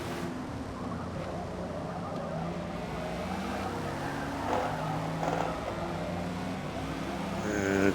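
A Holden Torana A9X race car in Forza Motorsport at Silverstone rolling into the pit lane, its engine droning steadily at moderate volume with tyre noise and a slight rise toward the end.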